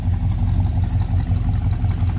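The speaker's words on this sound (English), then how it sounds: "A little rumble out of that 327." A 1967 Pontiac Parisienne 2+2 convertible's 327 V8 with dual exhaust rumbles steadily at idle, a loud, close, low throbbing burble with a regular pulsing beat and no voices.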